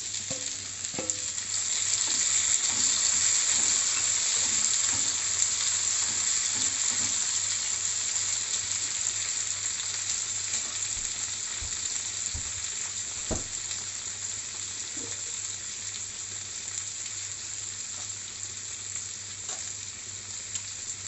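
Chopped tomatoes sizzling in a pan with golden-browned onion, ginger and garlic for a restaurant-style malai kofta gravy, a steady broad frying hiss with occasional stirring clicks and scrapes, close and continuous, no talking.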